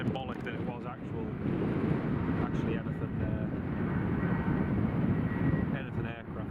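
An Air France airliner lining up on the runway at Newcastle Airport, a steady low engine rumble mixed with wind buffeting the microphone, with someone talking over it at times.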